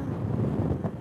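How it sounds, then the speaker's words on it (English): Strong mountain wind at about 2000 m elevation in early March, with snow on the ground, roars steadily and loudly against the microphone in dense low buffeting gusts. "Oh my God, the wind"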